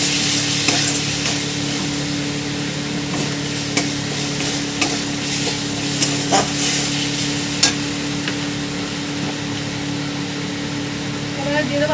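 Spices for a fish curry with raw mango are stirred as they fry in a pan, a steady sizzle with scraping strokes and occasional clinks, close and loud, with a voice speaking over it at times.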